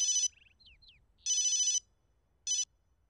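A telephone in a home rings with bright electronic bursts, three separate rings spaced by short pauses with faint chirps between, loud and close with no talking.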